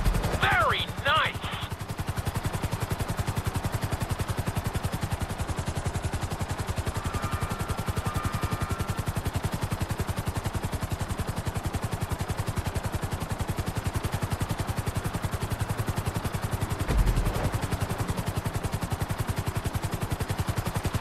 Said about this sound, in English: landing the helicopter is probably one of the hardest parts. Flying it isn't too bad.